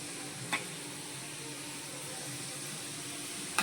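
Fried modak, a sweet dumpling, sizzling in hot oil: steady, faint, close crackling hiss with a couple of small pops and clinks.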